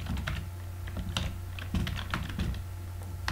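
Fingers type steadily on a computer keyboard, a quick run of light, close key clicks entering a file name, with no speech.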